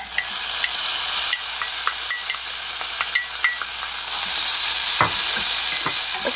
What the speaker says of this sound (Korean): 이렇게 해서 볶아주면 돼요